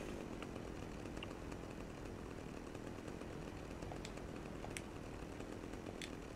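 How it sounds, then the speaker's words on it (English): In Grand Theft Auto: Vice City, a chainsaw drones continuously, its engine buzz steady and fairly loud throughout with small clicks and knocks over it. "Who doesn't want a chainsaw in their lives?"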